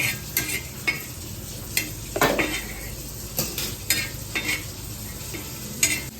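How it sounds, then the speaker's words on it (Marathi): Whole spices—cumin, cloves, cinnamon and bay leaf—being dry-roasted and stirred in a pan, with faint crackling under repeated metallic scrapes and clinks of a utensil against the pan at an irregular pace, up close. "खडा मसाला असा मस्त भाजून घ्यायचा"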